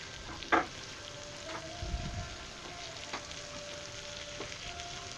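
Chicken tails sizzle in a pan as they fry and render their oil, giving a steady low crackle with a few louder pops and a brief clatter of the pan.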